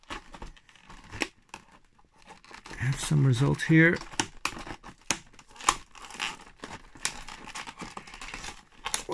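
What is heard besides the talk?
cutting packaging with big scissors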